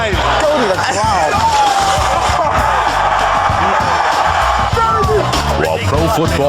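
Football stadium crowd at the Super Bowl between the Dallas Cowboys and Pittsburgh Steelers, a loud sustained roar of cheering and whistling fans, with voices talking over it.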